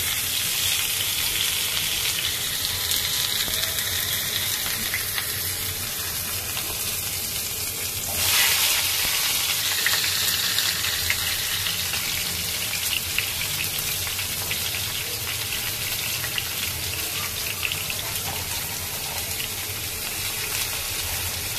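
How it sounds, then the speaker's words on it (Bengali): Onions frying in oil in a wok give a loud, continuous hissing sizzle throughout, briefly swelling as fresh sputter bursts partway through, with no talk over it. "পেঁয়াজটা ভালো করে ভেজে নেব।"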